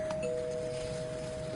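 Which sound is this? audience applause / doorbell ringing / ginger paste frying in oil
doorbell ringing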